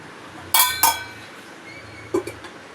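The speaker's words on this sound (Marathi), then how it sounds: "आता त्याच्यावर मी ढाकणं ठेवून देणार आहे" A lid is set on a steaming pot of boiled rice-flour dough: two sharp metallic clinks close together, then a softer pair of taps a moment later, with no talk.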